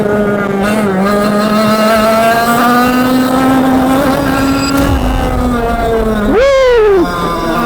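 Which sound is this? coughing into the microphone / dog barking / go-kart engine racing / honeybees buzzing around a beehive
go-kart engine racing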